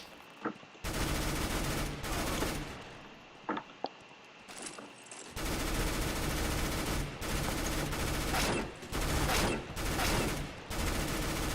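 P90 submachine gun fire in CS:GO, loud sustained automatic bursts, several long sprays separated by short pauses with a few lone shots between.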